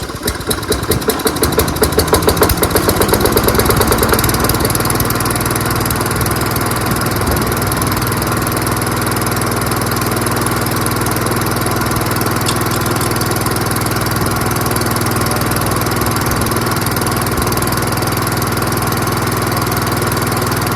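A Toro Recycler front-propulsion lawn mower is pull-started and roars to life loudly up close, rising into a steady, even engine drone that runs on unbroken without any speech.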